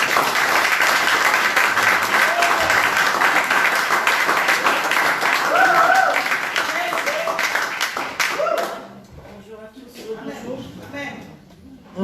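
Church congregation applauding and cheering at a worship service, sustained loud clapping with voices for about eight seconds before fading to scattered claps and quiet.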